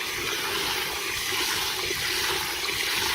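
Water poured into a bucket of compost to make compost tea, a steady, dense gushing stream that runs unbroken and close throughout.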